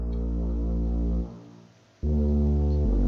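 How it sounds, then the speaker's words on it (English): Electric bass and tuba together hold a deep, sustained low end in a cinematic orchestral piece, a loud droning tone that dips briefly, then returns on a new pitch, with no talking. "The bass, that's electric bass, and the tuba, they they combine together to give that particular low end."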